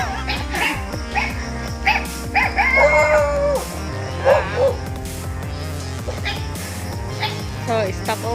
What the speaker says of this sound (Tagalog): Kasi nagagali yung mga aso nila.